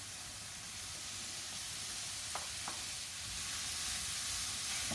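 Garlic and bacon cooking in a pan over medium heat, a constant faint hiss and sizzle with a couple of small clicks, alone without talk.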